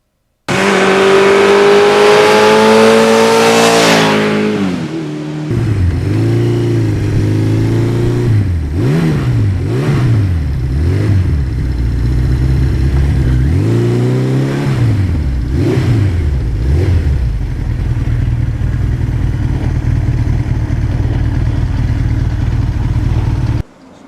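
1982 Suzuki GS1100E motorcycle fitted with new EBC brake rotors, its engine roaring loud and close through repeated rising revs and gear changes, with throttle swells and drops over a steady running drone.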